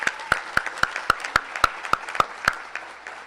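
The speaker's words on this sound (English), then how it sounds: "let's give him a round of applause for that" A round of applause at an engineering society keynote event in Houston, heard as a series of distinct, evenly spaced claps that ring out close by before tapering off.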